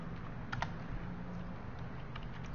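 Keystrokes on a computer keyboard while writing PHP code, a few quiet clicks in small bursts over a steady low background hum, no voices.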